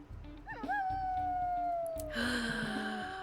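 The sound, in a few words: wolf's second howl, WolfQuest video game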